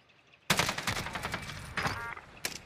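Gunfire in the Warzone battle royale game, a sudden burst of rapid automatic shots starting abruptly after near-silence, loud and close, with a second volley near the end.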